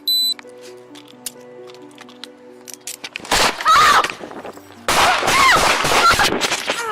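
Gunshots on police body camera footage: a loud burst of sharp, rapid cracks, a brief pause, then another sustained volley, preceded by clicks and faint electronic beeps.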